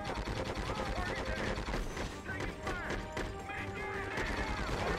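Dense, continuous gunfire fills Conflict: Desert Storm 2 combat, with rapid rattling bursts and impacts layered over a busy battle backdrop at moderate level and no clear pauses.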